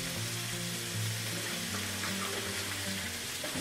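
Boiled potatoes tipped into a kitchen sink to drain, giving a dense, steady rush and hiss of pouring hot water with a low rumble underneath, heard close for several seconds without talk.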